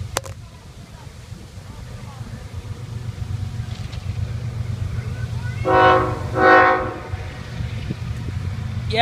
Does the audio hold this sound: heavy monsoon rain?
no